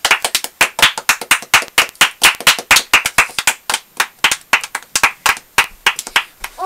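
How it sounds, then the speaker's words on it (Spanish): A small family group claps their hands in applause for an uncle, a run of sharp, close, fairly loud claps in an uneven quick rhythm with no talking. "Este es un aplauso para el tío Jason"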